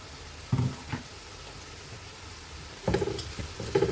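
Onions with a crushed spice paste sautéing in a pan for Thalassery chicken biryani, giving soft sizzling with a few louder bursts of stirring and scraping at close range, no talking.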